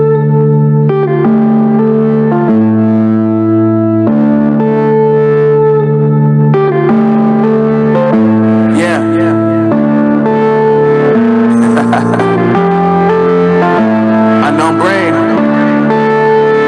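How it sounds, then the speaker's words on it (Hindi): Music with steady melodic tones and a driving beat plays loudly and continuously from a speaker during a sound quality test, heavy with effects and echo throughout, with no talking over it. "तो चलिए अब हम यहाँ पर प्ले करते हैं म्यूजिक और आपको बताते हैं कि इसकी साउंड क्वालिटी कैसी है दोस्तों।"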